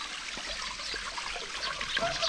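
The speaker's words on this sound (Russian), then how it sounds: "О, фонтан заработал у заказчика." A garden fountain at a client's house trickles and splashes outdoors, a soft continuous water patter heard at moderate distance with no talking.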